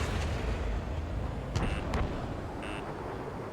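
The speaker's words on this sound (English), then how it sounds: "missile incoming!" Missile explosions in the air-combat game Ace Combat 7 come as deep rumbling booms over a low roar, with a couple of sharper bursts and alert tones standing out.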